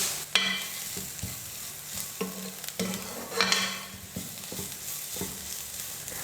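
Onions with chili powder and garam masala sauté in a pan over a medium flame for egg bonda filling, with a soft steady sizzle and repeated clinks and scrapes of a spoon stirring, close and without talk.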